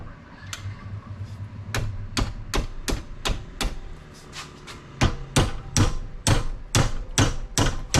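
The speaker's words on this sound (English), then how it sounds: "It's going to hit the hammer." A series of sharp metallic hammer strikes while installing a rear spring on a KLX110L motorcycle, irregular at first then settling into a steady, loud rhythm, close by.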